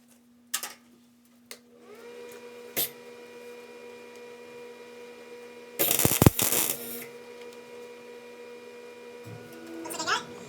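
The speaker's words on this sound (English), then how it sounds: "I'm going to try to weld that in real quick." A short burst of welding crackle fills in a small burned-through hole in the sheet metal of a Charger project car. It is heard for about a second over a steady electrical hum, with a few clicks and knocks before and after.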